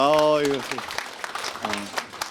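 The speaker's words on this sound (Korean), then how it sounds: "박수 한번 주세요." Audience applause at a community talk event, a short spatter of clapping right after someone speaks into a microphone, with voices over it.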